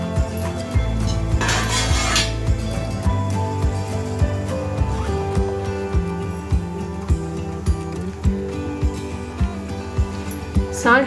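Vegetable noodles stirred in a pan, a metal spoon clinking and scraping against it in a steady rhythm of sharp taps, with an early burst of sizzling and a voice speaking.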